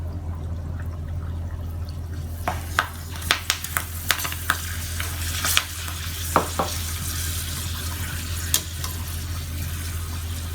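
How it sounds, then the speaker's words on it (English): Small papadum pieces fry in hot oil with a steady close sizzle and a low hum, broken by scattered sharp crackles and light clinks of a utensil in the pan. "I'm going to fry this with along with the papadums."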